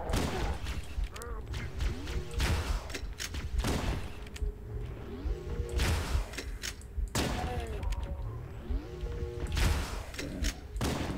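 Weapon fire from the player's gun in the shooter Halo: Combat Evolved, a dense, continuous stretch of rapid shots and impacts mixed with sci-fi effects and swooping tones, loud and steady throughout with no voices.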